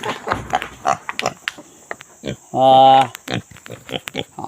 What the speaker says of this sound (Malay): Ada babi guys.